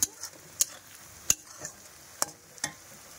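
Spices and chopped onions frying in a pan, a faint sizzle under sharp spatula scrapes and clinks against the pan, several spaced strokes.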